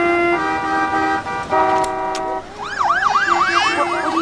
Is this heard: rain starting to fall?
no